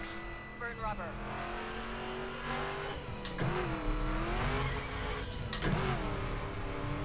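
A Dodge Charger races in the driving game The Crew, its engine revving up and down in rising and falling tones with occasional tire noise, loud and close throughout.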